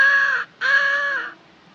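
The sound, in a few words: crow cawing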